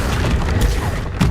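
Confringo blasting spell exploding in Hogwarts Legacy, heard as a loud, close boom with a sharp burst near the middle and another impact toward the end, all over a dense, busy wash of game combat noise.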